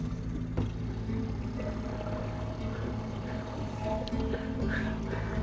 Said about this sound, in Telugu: ఆన్ అయింది ఇంజిన్. ఫార్వర్డ్ గేర్ పెట్టేస్తా.